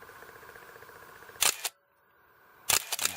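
Two crisp mechanical clicks from a Nikon F3 film SLR shutter firing in single-frame mode, each a sharp close snap with a brief mechanical tail, about a second apart over a faint room hum.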